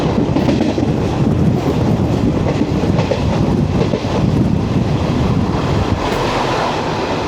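The 12076 Jan Shatabdi Express, a train of ICF coaches, runs through Kuttippuram station on rails with a loud, steady rumble and clatter heard close from on board, and no talking.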